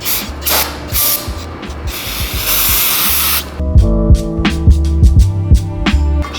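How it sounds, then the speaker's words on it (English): Brake cleaner sprays in loud, close hissing bursts from an aerosol can during work on a Honda K-series engine crank pulley, followed by a series of short clicks and spurts, with no talking. "We're gonna throw a little bit of brake cleaner."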